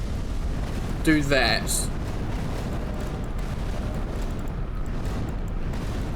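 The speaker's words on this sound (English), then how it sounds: "These are black Miranda sprouts, so the small ones will blow up." Black Miranda sprouts burst in Elden Ring Reforged, one sharp explosive pop with a ringing, shimmering tail lasting about half a second, heard under steady narration and low game ambience.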